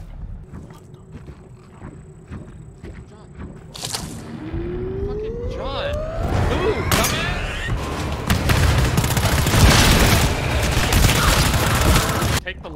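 Gunfire and explosive bursts from the co-op shooter game GTFO build up over the second half, dense and loud, with sweeping game effects and rumbling booms in the mix.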